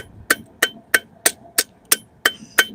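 Hammer striking hot steel on an anvil while forging, eight sharp ringing blows in an even, steady rhythm, close and loud.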